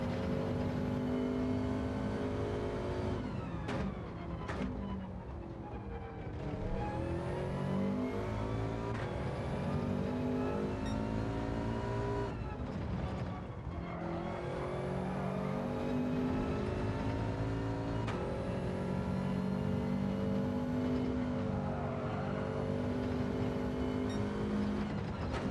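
A Subaru race car in Gran Turismo 7 at Brands Hatch drones loudly throughout, its engine climbing through revs with sharp drops at gear changes and sweeping back up over a long stretch.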